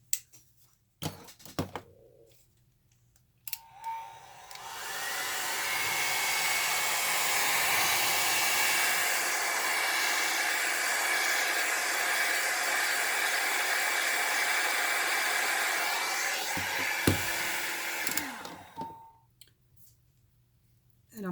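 A small handheld dryer blows steadily for about thirteen seconds to dry a drop of blue paint on card, loud and close, with faint clicks just before and after it runs.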